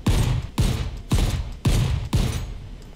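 Five heavy, evenly spaced gunshots from a video game weapon fired at an object, each a loud booming blast with a ringing tail, steady rhythm about every half second.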